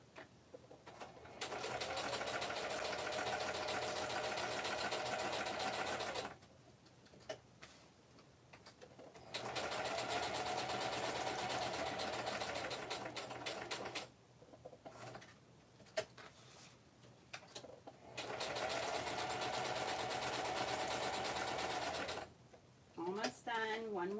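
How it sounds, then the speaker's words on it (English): A sewing machine stitches around the edges of a ribbon-trimmed piece in three long, steady runs of fast rhythmic whirring, separated by quiet pauses filled with small handling clicks. "I do think I'm going to sew around the edges with my sewing machine."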